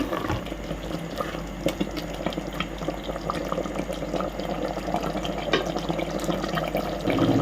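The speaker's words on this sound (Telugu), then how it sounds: "కొన్ని వాటర్ వేసుకుందాం. ఇలా వాటర్ వేసుకున్న తర్వాత ఒకసారి చక్కగా కలిపి" Water is poured into a pot of chicken curry in a pressure cooker, a steady gurgling splash and trickle close by, continuing without pause and with no talking.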